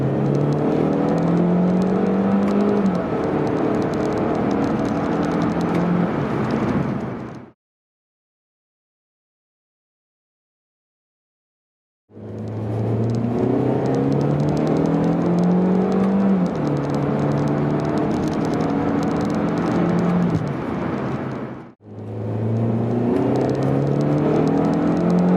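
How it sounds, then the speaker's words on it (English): Mini Cooper S fitted with a Burger Tuning JB+ piggyback tune under acceleration on a test drive, steady engine drone with rising pitch sweeps as it revs through gears, broken by a silent gap midway. "We are back from our little test drive using the JB"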